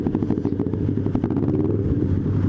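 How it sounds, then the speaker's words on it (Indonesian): A motorcycle with a loud aftermarket exhaust rumbles close by, a deep throbbing drone with rapid pulsing firing beats sustained throughout, out on an afternoon city street in Kota Patriot. "Serem knalpotnya."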